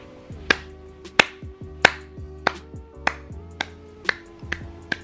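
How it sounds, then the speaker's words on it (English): A single person's sharp hand claps ring out about a dozen times in a steady, unhurried rhythm, each crisp and close, over faint sustained background tones. "what are you clapping for?"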